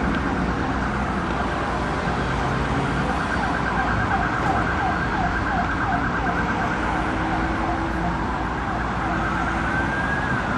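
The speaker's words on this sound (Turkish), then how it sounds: "Ambulanslar sevk edilmeye devam ediliyor." Ambulance sirens wail continuously through a busy street during a fire at Taksim First Aid Hospital, their rising and falling tones loud and steady over a dense rumble of traffic for the whole stretch.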